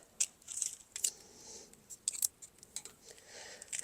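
A drip irrigation line cut off in a shade garden, a few sharp snipping clicks spaced out over a faint, quiet background.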